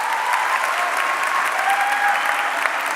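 An audience claps in answer to a show-of-applause question during an on-stage conversation, a broad, steady wall of clapping from a large room, fairly loud and sustained throughout.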